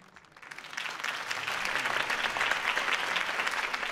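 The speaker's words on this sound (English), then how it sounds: "could have heard that applause" Applause from a video game, Batman: The Telltale Series, swells up from near silence and holds steady as a dense, sustained clapping from a large crowd.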